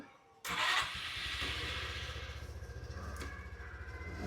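A new scooter engine starts abruptly with a loud catch, then settles into a steady, close idle with a rhythmic pulsing putter and no talking.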